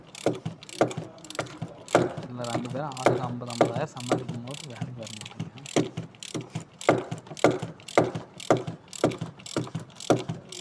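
A ratchet wrench snugs down the oil filter cover on a Ford Figo during an oil service, producing rapid close clicking strokes in an uneven rhythm with a brief rattle of metal, and no clear talking.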